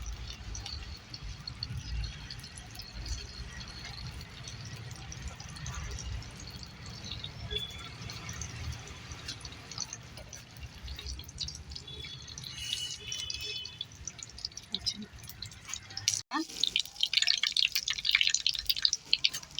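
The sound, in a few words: coconut oil poured into a heated clay pot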